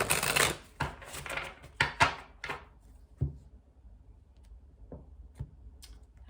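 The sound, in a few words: shuffling tarot cards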